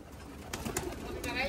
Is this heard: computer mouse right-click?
no